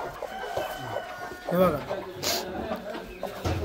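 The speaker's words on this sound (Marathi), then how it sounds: "इकडे सगळं खुडूक कोंबड्या तुम्ही बघू शकता." Broody country hens in a poultry coop cluck and a rooster crows amid barnyard clatter, moderately close, while a person talks over the birds.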